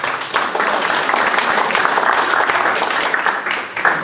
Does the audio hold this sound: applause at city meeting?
yes